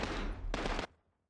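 Two quick bursts of gunfire in Call of Duty Modern Warfare, dense and fairly close, followed by a near-silent moment and a sharp final crack.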